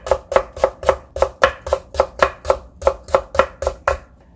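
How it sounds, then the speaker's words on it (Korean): A knife julienning carrots on a cutting board, about a dozen crisp, evenly spaced chops landing close and clear with no talk. "이렇게 해서 채를 쳐주면 돼요"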